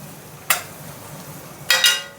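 Semiya upma (vermicelli) being stirred in a pan, with two short scraping clinks of the spoon against the metal, one single and one double, over a soft background hiss.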